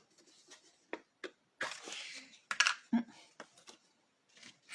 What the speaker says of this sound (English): Something's got him sneezing down there.